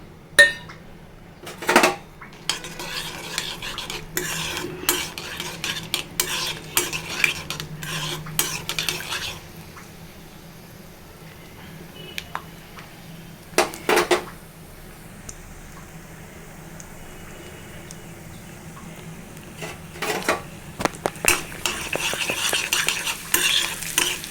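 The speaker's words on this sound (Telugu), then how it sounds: "ఇందులో తాలిం గింజలు వేస్తున్నాను మూడు ఎండుమిర్చి జీలకర్ర ఆవాలు ఎల్లిపాయలండి నాలుగైదు ఎల్లిపాయలు" Seeds, three dried red chilies, cumin, mustard seeds and four or five garlic cloves frying in hot oil for a gongura chutney tempering, with steady close sizzling, repeated spoon stirring and clinks against the pan.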